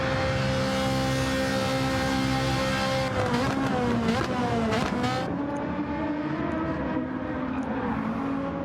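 A race car at full throttle in the racing video game GP Daytona, a loud sustained engine whine with rising and falling revs and a gear shift midway, heard alone.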